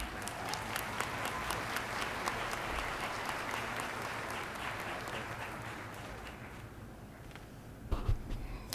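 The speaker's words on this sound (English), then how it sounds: "Please give Ms. Jones a round of applause." Applause at a commencement ceremony, a broad wash of clapping from a large audience in a hall, steady and fairly distant, fading toward the end with a few louder knocks.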